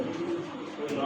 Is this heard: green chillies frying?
no